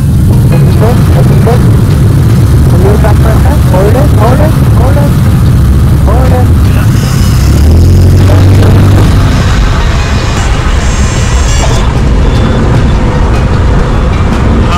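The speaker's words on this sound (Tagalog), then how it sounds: "Kailangan na kasing ilapag ang eroplano." A small training aircraft's engine drones loudly and continuously through the cabin on the landing approach to Dumaguete, with the steady roar filling the clip and a voice talking over it.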